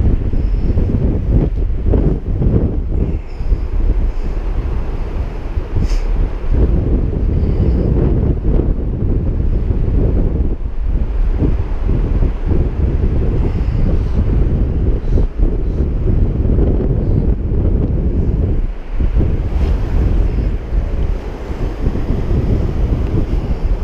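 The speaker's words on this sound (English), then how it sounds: "And I was just about to quit. Because of the wind." Strong wind blows beside the Firehole River in Yellowstone, buffeting the microphone in a constant, loud low rumble with gusty surges for the whole stretch, no voices.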